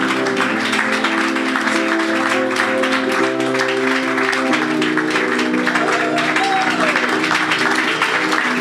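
Church congregation applauding and cheering steadily throughout, with dense clapping layered over sustained music or singing tones, loud and continuous.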